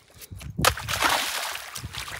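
A heavy jasper stone is dunked into cold standing water outdoors, giving one sharp splash followed by a steady sloshing wash of water, close and fairly loud.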